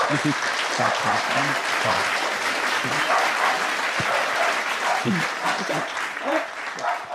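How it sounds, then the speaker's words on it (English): An audience at a live interview show at Lincoln Center in New York breaks into sustained applause, with dense clapping filling the room and a few voices rising over it. "Can you give a round of applause for ADHD?"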